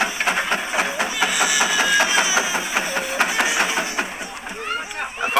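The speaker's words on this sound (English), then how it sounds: "Now he will bring the engine up to the top of the ramp." A steam tractor engine climbing a ramp at a hill climb event, with hissing steam and rapid mechanical clattering and knocking, fairly close, while someone talks over it throughout.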